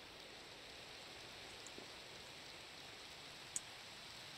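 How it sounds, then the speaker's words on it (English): Steady Minecraft rain falls as a faint, even hiss of droplets with a couple of tiny clicks, no voices present. "we're going to deal with the rain."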